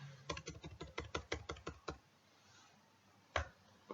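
Code typed on a computer keyboard: a quick run of about a dozen crisp, close keystrokes, then a pause and a single louder keypress.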